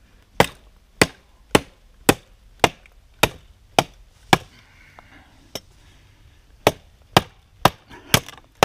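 A Ka-Bar EK45 Commando knife chopping into wood, a series of sharp, loud, evenly spaced thwacks close by, a short pause partway through, then more blows in quick succession.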